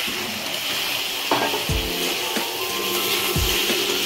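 Spice paste cooking down in oil with pre-fried taro and potatoes, a steady broadband sizzle running throughout with a few low thuds and scrapes of a spoon stirring in the pan.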